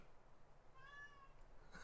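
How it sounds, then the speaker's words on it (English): A house cat meows somewhere in the background, one faint drawn-out call rising and falling, quiet and distant against a near-silent room, with a sharp noise at the very end. "I can hear my cat in the background."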